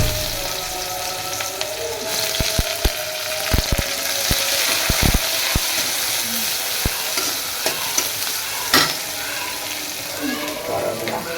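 Bitter gourd frying and being stirred in a pan in a home kitchen, with a steady sizzle and scattered sharp scraping clicks of the spatula against the pan, close and continuous.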